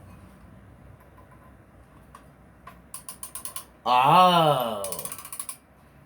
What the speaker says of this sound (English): this isn't a music box at all. Oh, it is a music box.